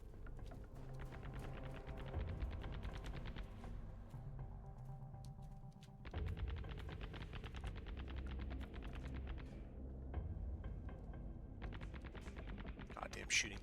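Rapid bursts of gunfire from the survival video game Sunkenland, with dense repeated shots and a near-continuous automatic rattle, pausing briefly at about six seconds before resuming, mixed with game sound and talk throughout.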